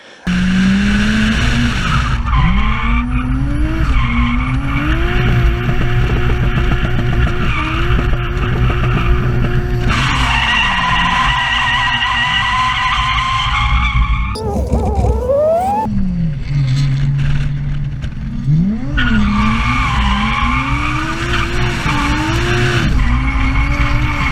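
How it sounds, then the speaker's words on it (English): A Nissan R33 Skyline GTS-T skids at a gymkhana event, tires squealing in long, wavering wails over a loud, continuously revving engine. The squeal rises and falls with brief gaps throughout. "as far as my ability to skid the thing"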